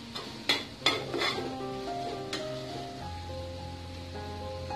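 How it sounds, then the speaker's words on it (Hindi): Boiled chana chaat being mixed with masala and spices: a few sharp spoon clinks and scrapes against the dish come early, then quieter stirring with a soft tonal hum underneath. "इसे अच्छे से मिक्स कर लेंगे।"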